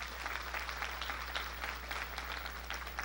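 A church congregation claps hands at a Sunday evening service, a steady broadband patter that holds evenly and fairly faint over a low electrical hum, with no voices standing out.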